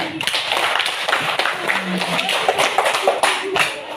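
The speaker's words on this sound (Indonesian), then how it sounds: "Kasih tepuk tangan dulu." A class of schoolchildren clapping hands together in a classroom, brisk close clapping with voices mixed in.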